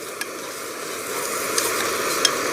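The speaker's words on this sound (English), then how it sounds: "Ooh, look at them sizzling in there." Vegetables sauteing in a pan at a campsite give off a steady, close sizzle that holds evenly, with a few faint crackles popping through.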